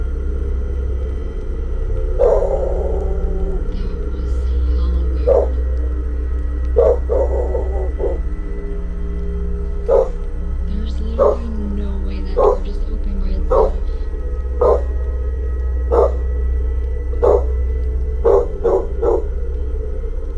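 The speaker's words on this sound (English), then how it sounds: "The dog kept staring straight at the open door and barking loudly" A dog barks toward an open door in a steady series of sharp barks over a low rumble, with a person speaking briefly at the start.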